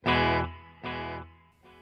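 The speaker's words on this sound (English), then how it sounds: "So right now with the overdrive turned off and the digital delay turned on" An electric guitar played through a Fender Tone Master Pro with overdrive off and digital delay on rings out in two strong strummed chords, each trailing into a fading delayed repeat, with a third quieter strum at the end.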